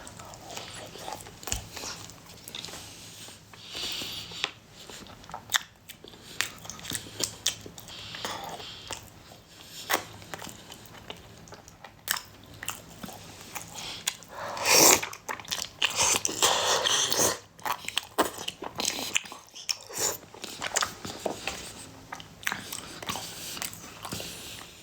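Chewing and biting on sesame paste shaobing flatbread, close and intermittent with soft crunches and mouth noises scattered over a quiet room, denser bites near the middle.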